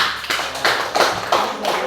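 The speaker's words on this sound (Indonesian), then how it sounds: "Tepuk tangan untuk kelompok 1." A Year 6 class claps for a student group in a classroom. The claps come as short, distinct bursts at a fairly even rhythm, close and moderately loud.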